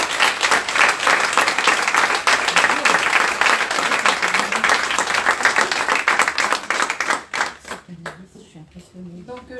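Loud audience applause for the godmother of an association at a talk, a dense wash of clapping that holds strong for several seconds, then thins out into scattered claps and quieter room noise.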